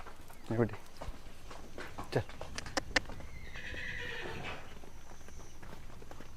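A horse whinnies loudly and close by at a stud farm in Ahmedabad, a shaky descending neigh, followed by scattered snorts and hoof knocks over faint background noise.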